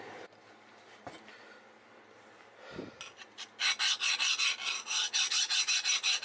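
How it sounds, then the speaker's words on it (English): A hand file is tested on a fully hardened knife blade made from crowbar steel. After a few faint taps, rapid harsh rasping strokes follow in an even back-and-forth rhythm, close and loud. "I want to do a little file test on it."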